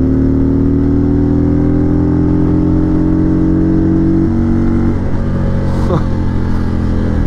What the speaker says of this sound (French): T'as senti là quand la moto elle coupe?